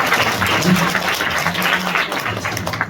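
A crowd applauds students at a Sunday church service, a dense wash of clapping with some voices mixed in, fairly loud and sustained throughout.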